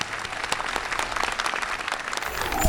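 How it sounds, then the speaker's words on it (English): Steady applause from an audience at a press conference for a Green Tech award, honoring students from the Green Academy; dense, sustained clapping that holds evenly throughout. "please give them a round of applause"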